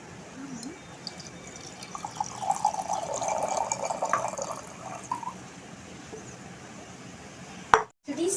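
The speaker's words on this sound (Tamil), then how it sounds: "ஒரு பாத்திரம் வச்சு அதில் நம்ம தண்ணி ஊற்றிக்கலாம்" Water pours into a cooking pot, a nearby trickling fill that swells for a couple of seconds and then tapers, followed by a short knock, with faint room noise around it.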